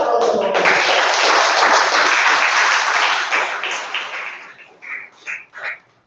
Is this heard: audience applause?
yes